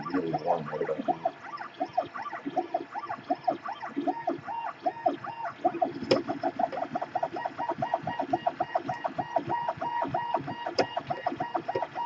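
A 3D printer runs at high speed on a 40mm calibration cube, its stepper motors giving a steady stream of rapid chirping, cooing tones and short buzzy pulses, close and continuous with no talking.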